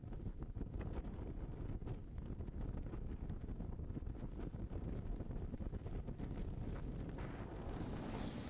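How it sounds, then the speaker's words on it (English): Strong storm wind in Crimea buffets the microphone in constant heavy gusts, a loud rumbling roar with no pauses and no voices. "In Sevastopol, the wind turns down billboards and breaks trees."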